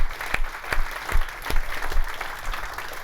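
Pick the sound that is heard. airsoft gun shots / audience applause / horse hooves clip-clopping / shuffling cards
audience applause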